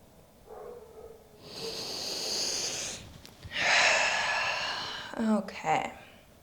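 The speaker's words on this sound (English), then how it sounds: "just take another 2 or 3 breaths here" Slow, deep breaths during a gentle trauma-informed yoga session for soothing the shoulders, long airy inhales and exhales drawn out over several seconds, close and moderately loud, with a brief sniff-like catch near the end and no talking.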